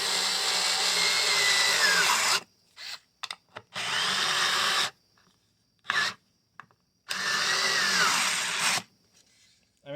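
A Hoto 3.6V cordless screwdriver runs in reverse to unscrew, giving three sustained, close whirring bursts of a couple of seconds each, separated by short stuttering blips and pauses of near silence.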